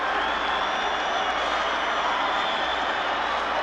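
Boston Celtics fans roar in a dense, unbroken wall of crowd noise after a championship playoff win, steady and loud throughout with no single voice standing out.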